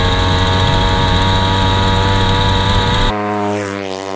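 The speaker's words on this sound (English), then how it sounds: "It is a 110cc still cement saw engine that was previously in the world" A 110cc engine salvaged from a cement saw, later fitted to a Pokemon pocket bike, runs loud and close with a steady harmonic drone, then cuts to a lower, smoother idle for the last second.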